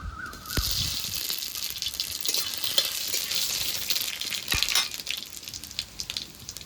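A dried red chili and whole radhuni seeds drop into hot oil, bursting into a loud, steady, bright sizzle that hisses close up for several seconds, with a few sharp crackles.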